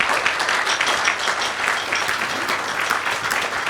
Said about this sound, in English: Can I ask for a round of applause, please?